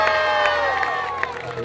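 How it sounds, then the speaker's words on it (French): Crowd cheering and applauding at a French jeu provençal triplettes championship in Pierrefeu, a continuous, fairly loud wash of claps and voices with a few brighter shouts across the moment. "Et applaudir Johan Segui."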